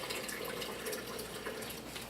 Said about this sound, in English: I'm gonna put just some filtered water in